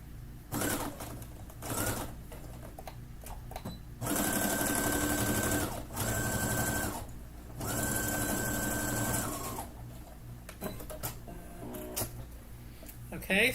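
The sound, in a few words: sewing machine stitching fabric for a drawstring bag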